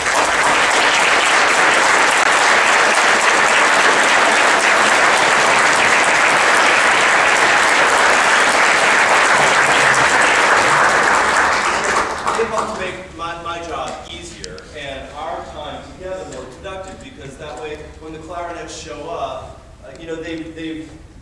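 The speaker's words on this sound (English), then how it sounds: "let's give them a round of applause for the work that they've done" A large seated audience breaks into loud, sustained applause honoring professors at a tri-state honor band event, a dense wash of clapping that cuts off around twelve seconds, after which someone talks.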